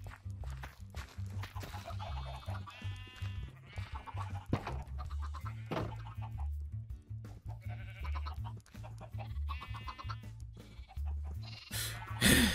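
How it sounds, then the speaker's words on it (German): Sheep bleating in the video game Minecraft, a run of repeated wavering bleats from several animals spread across the span, some overlapping, over a steady low game hum with occasional clicks and footstep-like taps. "Es ist einfach schrecklich, diese roten Schafe"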